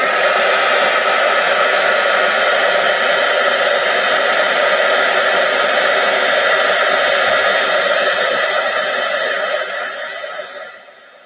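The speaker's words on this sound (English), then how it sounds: "now we're going to grab our heat tool and we're going to melt this" A heat tool blows hot air to melt embossing powder on a handmade card, a loud, steady roaring whoosh heard alone for several seconds before it winds down at the end.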